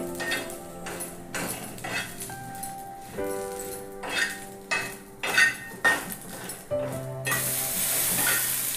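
Green chillies are sautéed in a pan for thecha, heard as a sizzle under frequent clinks and scrapes of a spatula on the pan, with a harsher hiss near the end.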